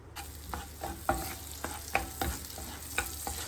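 Garlic sautés in butter in a pan, sizzling steadily close by while a utensil stirs and taps against the pan in a loose rhythm.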